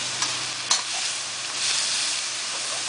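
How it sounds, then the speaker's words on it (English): Chicken stir-fried for holy basil chicken in a hot wok crackles with a steady, loud sizzle throughout, close up, with a few scraping and clinking stir strokes. "That's the nature of wok dishes, is you stir it constantly."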